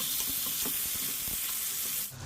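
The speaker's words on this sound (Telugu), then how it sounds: "ఇప్పుడు ఇందులోనే మనం కట్ చేసుకున్న టమోటాలను కూడా వేసి బాగా మగ్గే వరకు వేయించుకుందాం" Chopped tomatoes sizzling in hot oil in a pan, after coriander leaves were fried, for a coriander-tomato chutney; a steady broadband fry hiss with small popping crackles throughout, fading at the very end.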